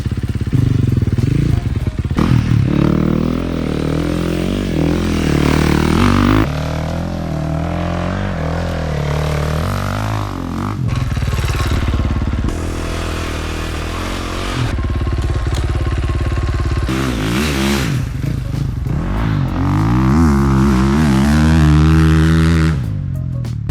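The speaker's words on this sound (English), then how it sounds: "see if it can actually record me riding my dirt bike" A dirt bike engine revs loud and close while riding a motocross track, its pitch rising and falling continuously through gear changes and throttle bursts, with rattling and wind noise throughout.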